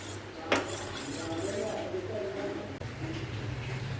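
Eggs being stirred in a bowl for a caramel pudding, a sharp clink of utensil on dish near the start, then faint scraping under low room noise.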